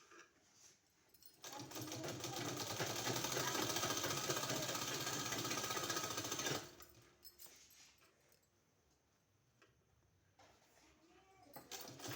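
A sewing machine runs steadily for about five seconds, stitching two long one-inch-wide fabric strips in two colours for a kurti sleeve design, then stops, leaving quiet handling noises.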